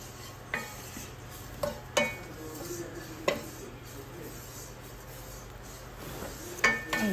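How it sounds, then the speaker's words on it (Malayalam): Coriander powder being stirred and dry-roasted in a pan for Kerala varutharacha kadala curry, with a faint steady sizzle broken by several sharp scrapes and taps of a spoon against the pan. "ഇനി വേണ്ടത് ഒരു ടേബിൾ സ്പൂൺ മല്ലിപ്പൊടി ഇട്ടെടുക്കുക"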